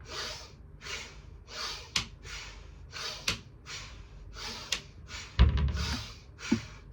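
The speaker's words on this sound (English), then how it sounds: "you literally go inhale to the left, exhale to the right" Slow, paced breaths in a kundalini breathing exercise, each inhale and exhale a soft airy rush repeating roughly every half second to second, close to the microphone, with a few sharp clicks and a brief thump.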